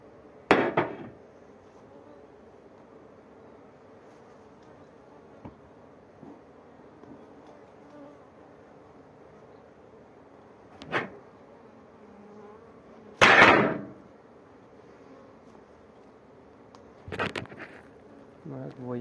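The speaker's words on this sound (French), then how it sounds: "Il y a beaucoup de monde. C'est une magnifique ruche." Honeybees hum steadily around an opened hive during a spring inspection, a low, even buzz broken by a few sharp knocks and clatters from handling the frames.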